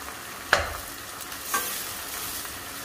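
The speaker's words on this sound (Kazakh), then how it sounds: "Біздің жуамыз жақсылап қуырылды" Onions fry in a pan for Kazakh-style shakshuka with tomatoes and bell peppers, making a soft, continuous sizzle. Two distinct spatula scrapes cut through it about a second apart.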